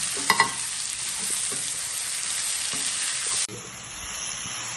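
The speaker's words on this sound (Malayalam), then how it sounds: "ആവശ്യത്തിനുള്ള തക്കാളി ഇട്ട് കൊടുക്കുക." Five finely chopped tomatoes fry in a pan for a chicken roast, with a steady hiss of sizzling, a couple of sharp clatters near the start and a brief drop in the sizzle partway through.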